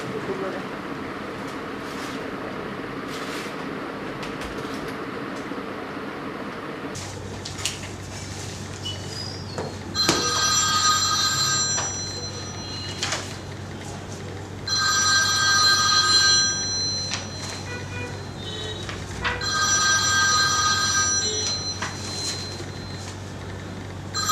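A telephone rings in repeated bursts of trilling bells, each lasting a second or two, over a steady low hum and some background voices.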